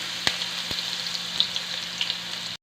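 Onion and ginger sizzle steadily in a hot pan, with a few sharp clicks of a utensil against the pan over a constant bright frying hiss.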